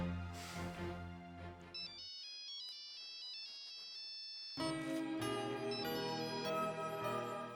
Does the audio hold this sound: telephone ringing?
yes